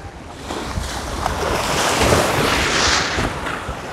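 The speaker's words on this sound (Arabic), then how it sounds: "الموج عالي قوي كمان يعني" High, strong sea waves at Bagoush beach in Sidi Heneish surge and crash in a broad, loud hiss, swelling mid-clip with heavy wind buffeting the microphone.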